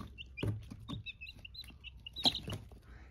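Many small chicks peep in high, short chirps, scattered and overlapping, inside a box, alongside some soft rustling and knocks nearby.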